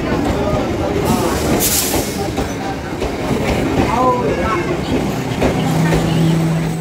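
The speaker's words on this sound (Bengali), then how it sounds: "দেখতে দেখতে আমাদের ট্রেনটাও চলে এলো। এটা হচ্ছে বনগাঁ লোকাল।" A Bongaon local train pulls into a station, its wheels clattering loudly in a rumbling, rhythmic roll with metallic squeals, while people talk nearby.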